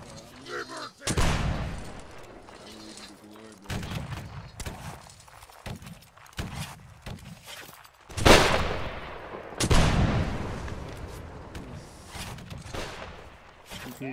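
Musket-style gunfire at a New England army reenactment event cracks out in several loud, irregular shots, some near and some farther off, with shouting voices and movement between the reports.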